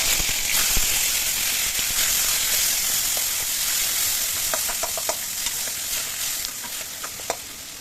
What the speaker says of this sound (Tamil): கருவேப்பிலை போட்டு தக்காளி போட்டு நல்லா வதக்கி